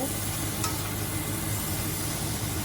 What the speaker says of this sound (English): So I'm going to leave this to saute a little.